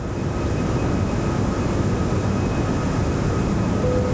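An Airbus A340-600 jet in X-Plane 12 climbs out after takeoff, its engines a steady, loud, unbroken roar without any talking.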